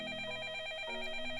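A telephone in a video game rings with a steady electronic trill, a single continuous burst close up and fairly quiet, with no voices, during a snowstorm with thunder.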